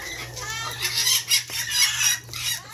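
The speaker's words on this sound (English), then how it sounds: "So the chicken are very alert, looking for their favorite" Bantam chickens, alert and searching for food around a garden compost pile, cluck in several nearby bursts over steady background noise.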